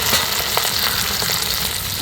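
Continuous bright sizzling of an egg paratha toasting in a hot pan, steady and close with small crackling pops throughout.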